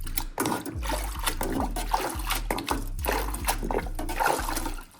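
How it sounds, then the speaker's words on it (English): Water splashing and trickling off a Craftsman oval-logo axe head as it is lifted out of a soak, with steady running and dripping sounds, fairly close and continuous, and no voices. "So get all this condensation dripping away."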